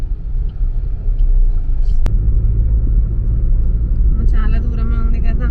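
Sunday road traffic heard from inside a moving car: a steady, loud low rumble of engine and road noise runs throughout, with a brief sharp click partway and a voice speaking over the latter part.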